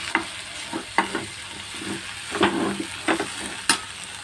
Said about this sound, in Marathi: ही आता छान परतून घेऊया.